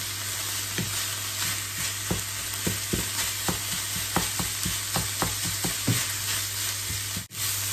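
Minced pork being stir-fried in a pan for sago dumpling filling, with steady sizzling and a run of regular spatula scrapes and taps against the pan, close and alone, ending in one sharp knock.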